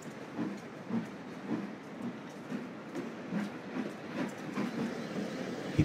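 A steam locomotive puffs into a shed near the rail yards, giving a rhythmic series of soft chuffs at a steady pace. The sound is fairly faint, with a light hiss between the beats.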